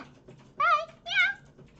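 A cat meows twice in close succession, two clear, rising-and-falling calls a moment apart, close and moderately loud over a faint background.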